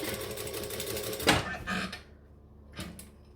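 Sewing machine topstitching along the outer edge of a fabric panel, a fast, even mechanical whirr that stops abruptly, followed by a short clunk and a brief second burst of stitching.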